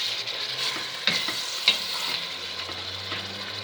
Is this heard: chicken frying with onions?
yes